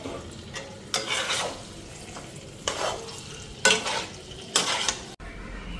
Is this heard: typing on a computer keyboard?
no